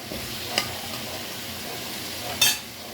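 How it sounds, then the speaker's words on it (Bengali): Steady low sizzle of chicken frying in oil throughout, broken by two brief scraping clinks of a utensil, the second louder. "চিকেনটা ভেজে নিব ভালো করে"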